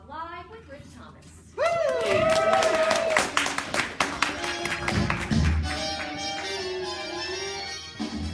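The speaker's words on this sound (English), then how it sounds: "please give a nice warm round of applause for the Rick Vlog Live with Rick Thomas" A live comedy-club audience at an improv festival in Chicago greets a comedian with loud, sustained applause and cheering that swells in and carries for several seconds, with voices calling out over the clapping.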